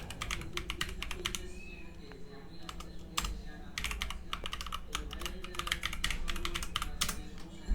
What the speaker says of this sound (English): let's type in my Gmail address